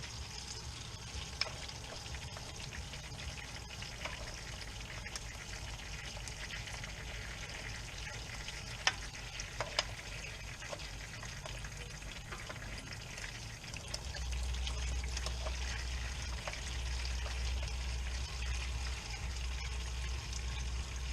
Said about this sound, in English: loosen up these front ones a little more and let the fluid drop down